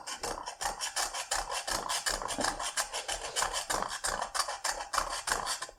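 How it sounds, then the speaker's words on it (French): A saw rasps back and forth against supposedly unbreakable glass in fast, rough, repeated strokes that continue steadily at close range without talk. "Je n'ai pas réussi à le scier"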